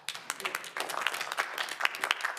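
Scattered audience clapping at a planning and zoning commission meeting, a short, moderately quiet patter of hands from a small room.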